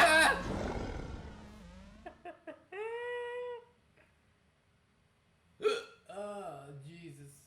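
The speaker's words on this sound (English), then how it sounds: "These are some real hiccups" A person has a run of sharp, voiced hiccups between bursts of talk and strained vocal sounds, with quiet gaps in between.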